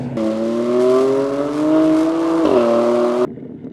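BMW 4 Series accelerating hard from rolling speed in a road race, a loud steady engine drone rising in pitch, dipping briefly at a gear change before climbing again, then cutting off abruptly.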